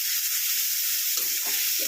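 Chopped tomatoes, garlic, ginger and green chili frying in a hot pan for a spiced eggplant mash, a constant bright hiss of sizzling oil with a couple of faint soft stirring knocks near the end.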